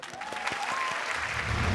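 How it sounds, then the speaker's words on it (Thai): Studio audience applause on a Thai televised game show, a dense steady patter of many hands clapping at moderate volume with a faint tone running under it. "ขอเสียงปรบมือดังให้สาวสวยของเราด้วย"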